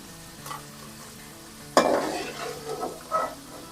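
Potatoes frying crisp in hot oil in a karahi while keema aloo is cooked, with a soft sizzle, a sudden louder burst of frying and stirring near the middle, then settling into steady crackle with scraping pulses.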